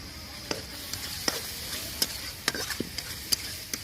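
Spiced masala for a Bengali prawn malai curry fries softly in a pan. A spoon or spatula scrapes and clicks through it in a dozen irregular, fairly close strokes.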